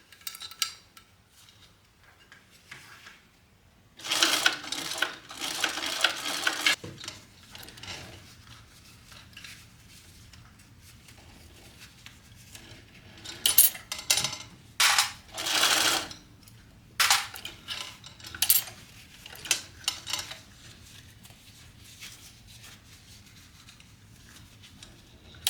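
A sewing machine stitches a seam in two separate runs of steady mechanical whirring, each lasting a few seconds, with quiet pauses between them and no talking.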